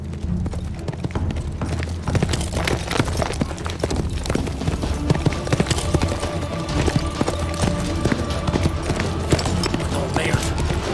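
Horse hooves clip-clop steadily through a tense, dramatic scene, a continuous thudding rhythm mixed with shouting voices and background commotion.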